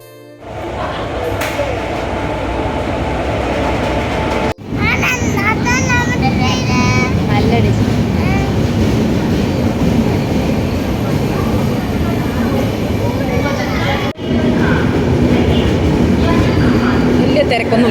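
A train rumbles loudly into a station, with squealing brakes and constant heavy noise, and people talk over it.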